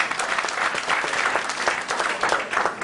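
Church congregation giving God a loud, dense round of applause, steady and sustained throughout with no pauses.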